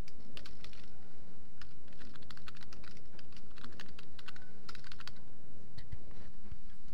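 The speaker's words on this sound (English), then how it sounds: "We're going to type it in now" Keys clatter on a computer keyboard in irregular bursts of quick taps with short pauses, close and clear over a low steady hum, as a title is typed into a table.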